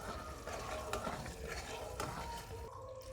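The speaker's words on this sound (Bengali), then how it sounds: "চিনির শিরাটা একটু খুন্তি দিয়ে নাড়া দিয়ে রাখবো" Sugar syrup is stirred with a spatula in a pan for chana dal sandesh, giving a steady low scraping and faint simmering texture with a few soft knocks, close by, with no talking.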